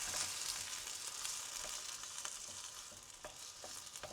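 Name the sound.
stirring tomatoes and turmeric into ghee in a pan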